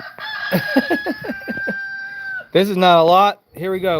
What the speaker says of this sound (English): Don't you hear the roosters crowing?